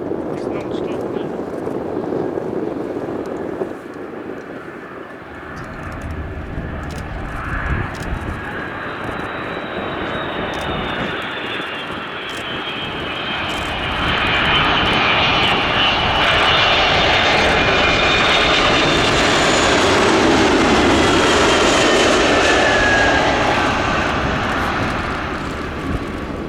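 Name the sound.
US Air Force Boeing KC-46A Pegasus jet arriving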